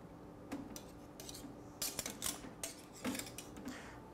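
Custards are lowered in the rack of a Sous Vide Supreme into its water bath, with a series of light metallic clinks and taps from the rack, quiet and close, no talking.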